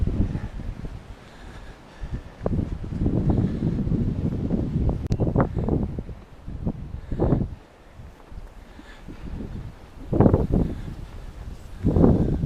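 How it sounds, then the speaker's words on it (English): Gusty wind roars in bursts on a cold snowy hike, whipping up snow and buffeting the microphone with rising and falling rushes of noise and occasional sharp swells, no voices. "The wind's coming in gusts, so when it does blow, it whips all the snow up."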